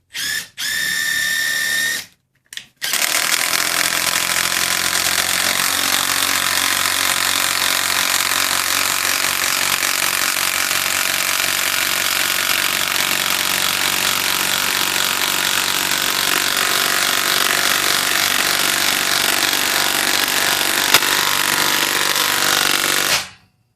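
A Makita XDT08 brushless impact driver spins up briefly in short bursts, then hammers a lag bolt into wood with a long, loud, rapid rattling impact that runs for about twenty seconds before stopping abruptly.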